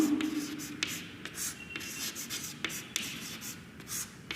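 Pen writing examples by hand on paper during a grammar lesson: continuous close scratching strokes with small taps as the pen lifts and lands, quiet and steady with no talking.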